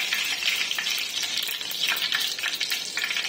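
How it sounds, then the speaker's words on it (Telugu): Curry leaves deep frying in hot oil, a dense, steady crackling sizzle with rapid spits and pops throughout, close and fairly loud with no voices. "కరివేపాకు కూడా డీప్ ఫ్రై అయ్యింది."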